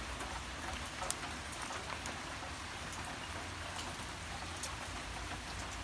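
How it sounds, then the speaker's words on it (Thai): Steady rain falls continuously, a dense even hiss with occasional sharper drops pattering close by, no voices. "ฝนตกด้วยแหละอากาศมันน่านอน"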